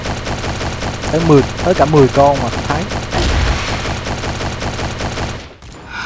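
In CrossFire Mobile, bursts of machine-gun fire from a Lewis Gun rattle through a zombie mode match, with someone talking over the shooting.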